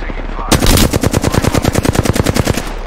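Loud, rapid automatic gunfire erupts suddenly in the video game Apex Legends, with a steady stream of closely spaced shots hammering on without pause.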